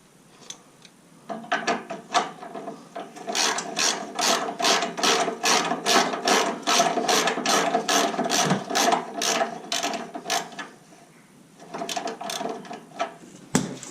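A hand ratchet tightens a 15mm nut on the rear silencer exhaust clamp of a Jaguar F-Type V6 S AWD, giving rapid, loud, close clicking in steady bursts of strokes with brief pauses and no talking.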